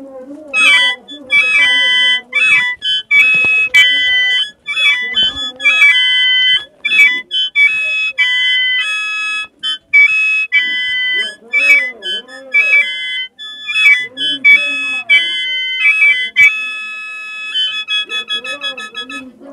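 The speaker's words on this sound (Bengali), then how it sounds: "আরেকটি মজার বিষয় হলো এখানে এই বাঁশিগুলো না, একটা বাঁশি এক সুর।" Mro plong, a bamboo flute played with a single note per pipe, sounds a bright, sustained tone in short repeated phrases, with rhythmic breathy pulses and people talking underneath.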